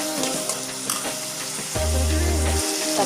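Tomatoes sauté in a hot pan for prawn thokku, crackling and sizzling steadily with scattered stirring scrapes, then a louder, denser frying hiss swells near the end.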